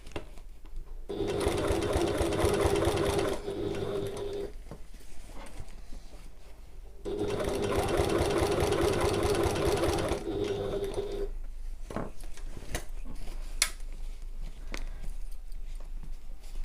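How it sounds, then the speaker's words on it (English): A sewing machine runs a top stitch along the upper edge of a fabric pocket, in two long, steady runs with a quiet pause between them and no talk. "I'm going to sew all the way around the whole top edge"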